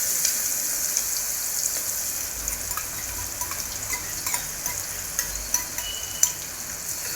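Chopped onion fries in a tempering of cumin and asafoetida for a Gujarati vadi curry, giving a continuous close sizzle with scattered crackles and light spatula scrapes.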